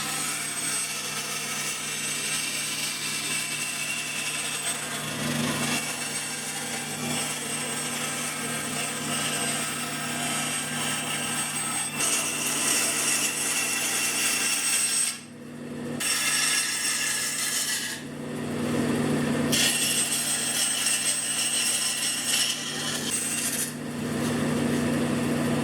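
Handsaw cutting through thin book-matched wood boards for a soprano ukulele top, a steady, continuous rasping stroke that runs nearly throughout, close and fairly loud, with a couple of brief pauses between strokes.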